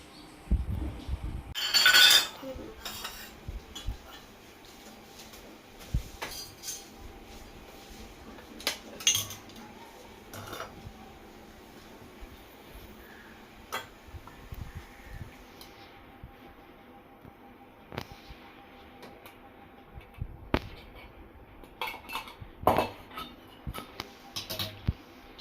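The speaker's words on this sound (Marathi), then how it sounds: "तर आता मी चहा काढते आणि चपाती गरम करते." Kitchen utensils clink and clatter while tea is made and chapati is heated. The metallic knocks and scrapes come in scattered bursts at close range over a quiet room, with one louder clatter near the start.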